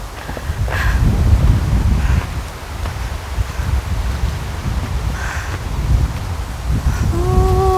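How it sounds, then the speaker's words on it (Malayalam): Cold wind blowing outdoors at an open zoo near Manchester, buffeting the microphone in loud gusts with rustling, while a faint animal call rises near the end. "നല്ല തണുത്ത കാറ്റ്"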